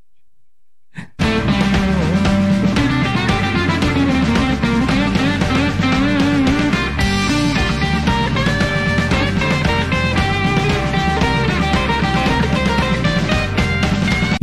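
An electric guitar with 60s-style analog effects plays a live rock band cover, loud and continuous after a brief quiet start.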